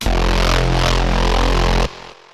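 Distorted reese bass synth patch built in Serum, with LFO movement, drive and delay: a loud, thick, buzzing sustained low tone holding for nearly two seconds, then cutting to a faint delay tail.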